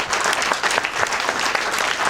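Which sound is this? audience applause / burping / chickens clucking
audience applause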